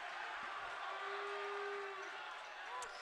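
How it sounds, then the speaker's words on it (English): Basketball crowd in a high school gym at a Selinsgrove vs Shikellamy game, a steady sustained roar and cheering that swells in the middle and tapers slightly, with no clear speech over it. "the crowd lets him hear it"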